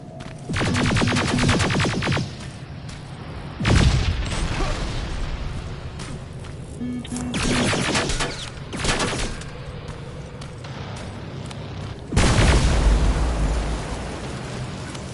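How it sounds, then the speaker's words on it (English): Artillery barrage explosions in Terminator Resistance, several heavy booming blasts in a loose, irregular series, each one loud and close with a rumbling tail. "Those artillery barrages?"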